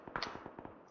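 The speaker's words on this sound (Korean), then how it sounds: "총소리 들리지? 지금 딱딱 끊어쏘는 거" Short tapped bursts of rifle fire in PUBG, several quick cracks close together in a rhythmic pattern, fairly faint against a quiet background.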